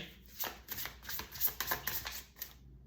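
Tarot cards are shuffled by hand in quick, soft riffling flutters, close and fairly faint, with a crisp papery patter and no talk.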